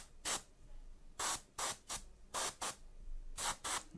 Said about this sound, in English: with the black primer, I'm spraying from all different angles